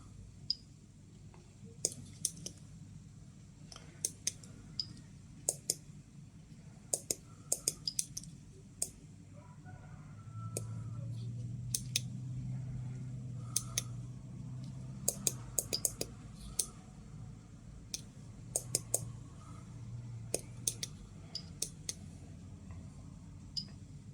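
Irregular sharp clicks from an SBM-20 Geiger counter, popping at random intervals against a quiet background hum, fairly close and moderately loud.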